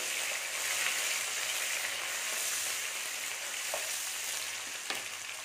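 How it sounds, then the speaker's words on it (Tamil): Green and dried chillies sauté in hot oil for a Chettinad chicken gravy, giving a steady, close, broadband sizzle with a couple of faint clicks from stirring and no voices. "இது நல்லா வதங்கட்டும்."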